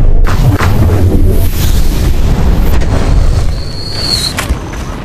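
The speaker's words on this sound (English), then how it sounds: "Big explosion, lots of smoke, leaves a meteor." A fire meteor spell explodes in Blade and Sorcery Nomad, a loud, booming blast that rumbles heavily with a broad crackling burst, followed by a sustained roar and a faint high whistle near the end.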